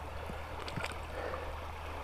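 Creek water runs around a homemade 9-inch lexan gold sluice, a steady, fairly faint rushing and gurgling wash with a few light knocks and no speech.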